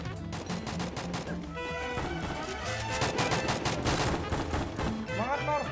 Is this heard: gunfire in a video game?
yes